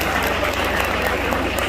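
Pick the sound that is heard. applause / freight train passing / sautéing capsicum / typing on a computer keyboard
applause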